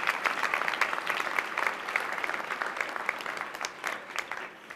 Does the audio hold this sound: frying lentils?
no